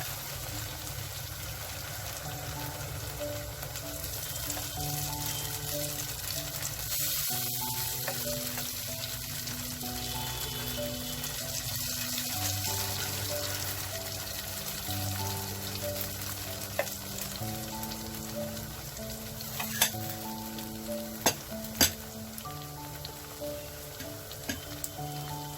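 Ghevar batter poured into hot oil fries with a continuous dense sizzle and bubbling hiss, close and steady, with a few sharp clinks near the end and no talking.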